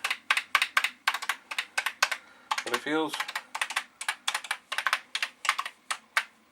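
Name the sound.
typing on a Commodore 64 keyboard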